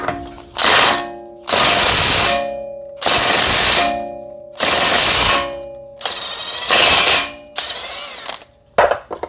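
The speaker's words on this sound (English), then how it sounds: "All right, first things first, let's get the axle nut off." Loud bursts of an impact wrench removing the 30 mm front axle nut on a Lexus ES330, six or seven sustained hammering runs with short pauses between, close up.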